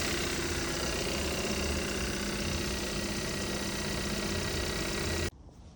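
A Kia car engine runs at a steady idle while warming up toward fan-on temperature, a loud continuous close hum with faint vibration that cuts off abruptly near the end.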